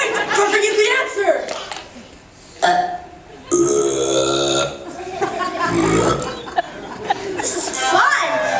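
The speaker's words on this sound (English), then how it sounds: "Oh, how I love to burp." Cartoon burps ring out loud and drawn-out, several long belches in a row mixed with animated voices and chuckling.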